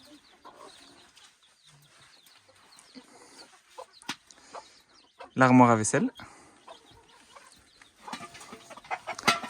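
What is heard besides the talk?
chicks cheeping in a courtyard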